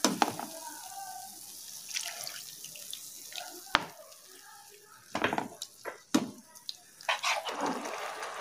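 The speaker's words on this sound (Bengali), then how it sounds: "এবার আমরা সামান্য জল দিয়ে এটা ফুটতে দেব।" Water poured into a pan of paneer butter masala gravy, splashing and trickling in several bursts alongside clinks of a utensil against cookware.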